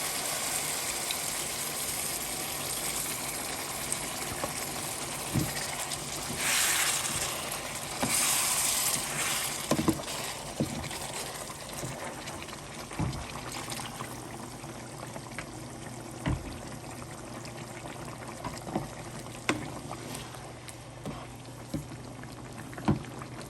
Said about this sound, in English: this is the time you add the broth